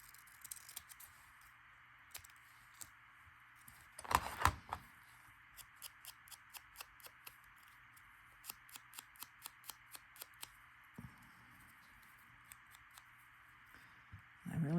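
Scissors trim a printed paper flower cutout in a quiet room, with a quick series of soft, close snips and a few louder rustles of handled paper.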